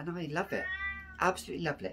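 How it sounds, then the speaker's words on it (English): A cat meows close by in a drawn-out, wavering call between stretches of a woman's speech, which fills the start and end. "Now, if you can hear my cat, she's just meowing"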